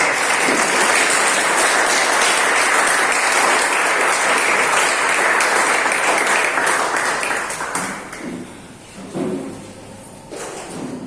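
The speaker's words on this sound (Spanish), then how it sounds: "Den un fuerte aplauso" Strong applause from a church congregation after a sermon, dense and sustained for about eight seconds before breaking into scattered claps and thumps.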